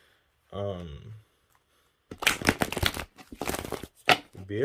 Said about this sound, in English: I know some of y'all love to see some shuffling.